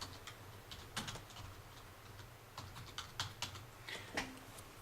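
Quiet, close keystrokes tap out short irregular bursts on a computer keyboard while text is entered into a blog post, with a faint low hum underneath.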